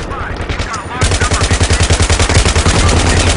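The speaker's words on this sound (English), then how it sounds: "all explosions do have a pressure wave that moves through the environment in a very realistic way" In Battlefield 3 gameplay, rapid gunfire rattles in fast, even bursts after a heavy blast, loud and close, with the shots repeating continuously through the whole stretch.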